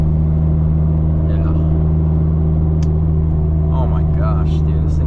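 Nissan S15 with an SR20 engine drones loudly and steadily under an acceleration pull, heard from inside the car, with a voice briefly talking over it.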